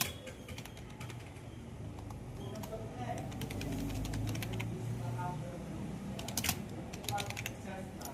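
Keys clatter on a computer keyboard while text is entered into an MS Office bill layout, with irregular soft clicks in scattered bursts under a man's speech in the room.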